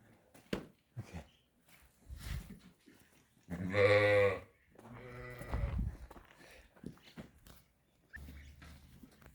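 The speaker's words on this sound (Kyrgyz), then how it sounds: "Жалаң жаш койлор, бир дагы картаңы жок бу жерде." Young sheep in a flock bleat close by. Two loud, wavering bleats come one after another mid-stretch, with softer shuffling and small animal noises around them in an otherwise quiet pen.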